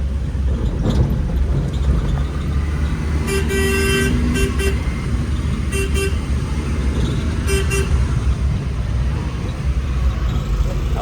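A car horn honks in several short bursts, one longer blast then two brief pairs, loud and close over a steady engine and road rumble.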